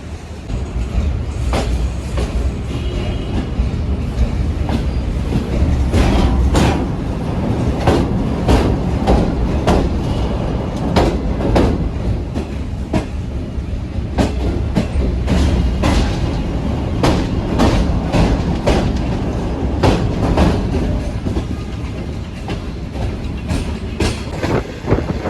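Newly upgraded Shalimar Express train, heard from the AC Parlour class, running after leaving Lahore Junction: a steady, loud rumble with repeated rhythmic wheel clacks throughout and no talking.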